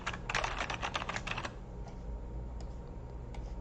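Rapid keystrokes on a computer keyboard while a case summary is entered into a client intake spreadsheet, a dense burst of clicks in the first second and a half, then a few scattered taps over a low steady hum.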